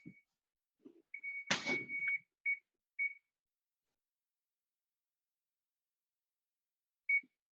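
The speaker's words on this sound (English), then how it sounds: "that's my timer" Kitchen timer used while baking cream puffs, giving a series of short electronic beeps: several quick tones, one longer burst, then a lone beep after a pause, clear and close with no talk.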